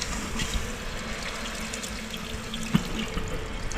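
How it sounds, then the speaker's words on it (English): A kitchen faucet runs, its water filling a sink bowl with a steady close splashing hiss and one brief knock partway through, no talk. "Oh, it's filling up the bowl."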